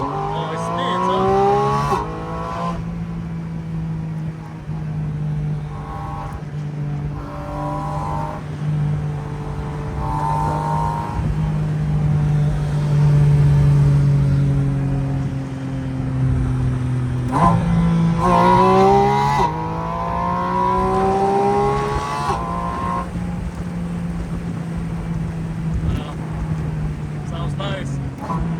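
A Porsche Boxster Spyder RS (982) heard from inside the cabin, its engine climbing through repeated rising revs with gear changes, loud and sustained, while occupants chat over it.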